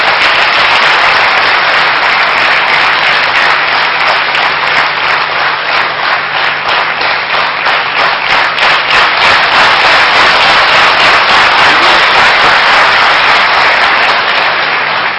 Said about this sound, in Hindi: तालियों की गड़गड़ाहट पुनः हो जाए भ्राता गिरीश पटेल जी के इंतजार में।